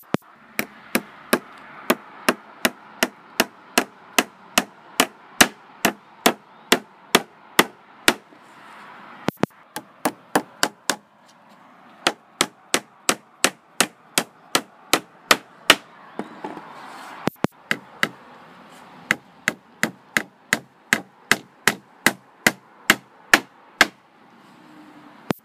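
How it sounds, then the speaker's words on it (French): A hammer drives nails into a wooden trapdoor, sharp loud knocks repeating in quick, regular runs separated by brief pauses, with faint handling noise between the strikes. "on va se retrouver tout de suite pour le début du clouage"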